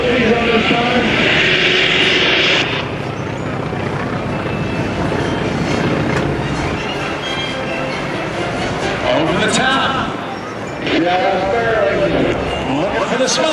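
Aerobatic airplane climbing hard under about 4 G at a 2009 air show in Hampton Roads, its engine a loud continuous roar near the microphone, with radio chatter and voices talking over it.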